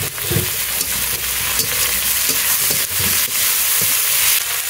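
Chopped tomato sizzles loudly in a hot pan with country chicken curry, a close crackling hiss with occasional scrapes as it is stirred.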